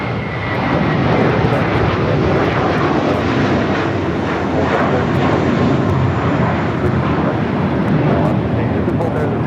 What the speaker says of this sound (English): It's an A321 now taking off here on the south side.